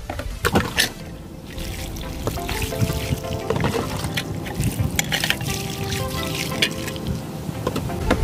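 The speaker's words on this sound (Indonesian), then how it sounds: "Oke, sekarang kita bilas dan kita bisa melihat hasilnya." Water trickles and splashes as a gas stove is rinsed after cleaning, a steady close pour with scattered drips and clatter, no talking.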